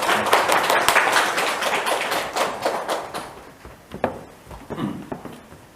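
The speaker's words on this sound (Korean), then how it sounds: "나오실 때 큰 박수 부탁드리겠습니다" Audience applause for a speaker at a talk on retirement and end-of-life living: close, fairly loud clapping at first that thins into a few scattered claps and taps, with light thumps as the speaker walks up.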